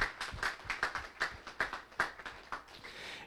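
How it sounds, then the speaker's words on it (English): A small audience at a school Terrific Kids ceremony claps, sparse distinct hand claps in a loose rhythm, fairly quiet and close, thinning out toward the end. "So we want to give all of you a round of applause as well."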